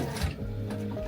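A sewing machine runs a short, quick burst of stitching to tack a tab onto a glasses case, heard up close and fairly quiet.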